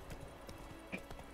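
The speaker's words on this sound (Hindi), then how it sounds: "इनके ऊपर चढ़ा देना घोड़ा." Horse hooves clip-clop in a steady, quick rhythm of close, distinct thuds from a mount in The Witcher 3: Wild Hunt, with a brief brighter clink partway through.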